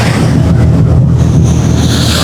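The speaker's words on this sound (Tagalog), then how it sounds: "medyo mataas na yung takbo ng barko" A passenger ship cruising fast at sea, carrying a steady, loud low engine drone and rushing wind and water noise that stays constant throughout, with no voices.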